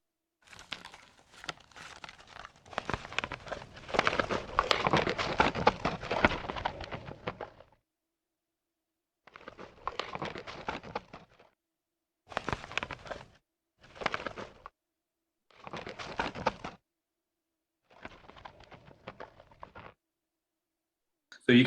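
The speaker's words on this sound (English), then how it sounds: "So here's the sound of the crab shell as I used it by itself." Snow crab shell crunched alone for sound design, heard as close, dry crackling and crumpling bursts, one long stretch followed by several short separate crunches with silence between them.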